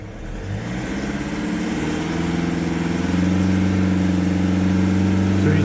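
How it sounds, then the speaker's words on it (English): A Mercedes C220 CDI diesel engine close by revs steadily higher after a boost pipe replacement, the droning pitch climbing and holding over a loud, continuous rumble. "Let's just rev it up a bit."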